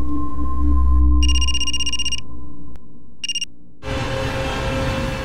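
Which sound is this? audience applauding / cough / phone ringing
phone ringing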